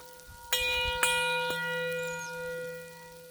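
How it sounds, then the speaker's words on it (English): Church bells ring out in three distinct strikes about half a second apart, each leaving a long humming tone that fades slowly over faint background noise. "Church bells are ringing."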